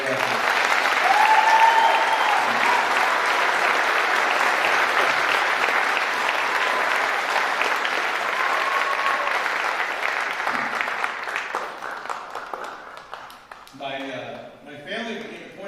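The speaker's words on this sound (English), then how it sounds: "applause for all of their efforts." Sustained loud applause from a graduation audience honoring teachers, aides and administrators at a school ceremony, steady clapping that thins out toward the end.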